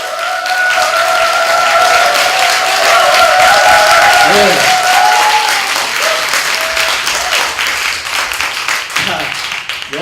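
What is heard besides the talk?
audience applause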